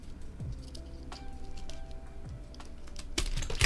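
Typing on a ZoomTKL Dyna keyboard with a cork mount and a 1.6 millimeter PCB: a close, steady patter of soft, muted keystrokes, ending with a sharper clack.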